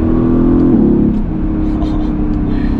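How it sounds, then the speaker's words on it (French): A Mercedes-AMG V8 engine rumbles loudly up close, its pitch rising then dropping as it revs, with faint chatter in the background. "Ce V8 est quand même assez exceptionnel."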